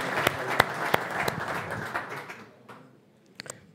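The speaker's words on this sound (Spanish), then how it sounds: "Un fuerte aplauso" Audience applause at an annual weed-science meeting, a steady patter of many hands with a few sharp individual claps standing out, thinning and fading to a handful of last claps.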